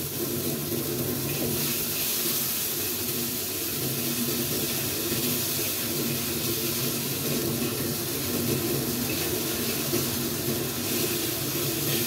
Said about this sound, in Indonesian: Tumis, diaduk, tambahkan sedikit air biar daging sapinya matang.